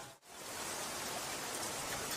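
Heavy rain pours continuously in a video game, a dense, even hiss that fills the scene after a brief dip at the start, with no voices.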